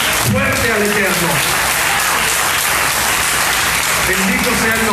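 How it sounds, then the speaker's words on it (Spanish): A church congregation gives a loud, sustained round of applause, dense and continuous throughout, with voices calling out and cheering underneath. "Denle una ofrenda de palmas fuerte al Eterno."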